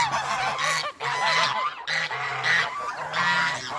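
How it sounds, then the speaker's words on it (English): A flock of farm geese honking loudly and close by, overlapping calls repeating steadily without pause and no voices over them. "These geese."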